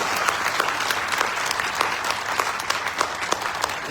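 A hall audience gives loud, continuous applause honouring freedom fighters at a commemoration in Mau district, the clapping dense and rhythmic from start to finish with no voices over it.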